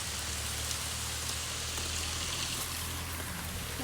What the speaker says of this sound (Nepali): पानी पर्न लाग्यो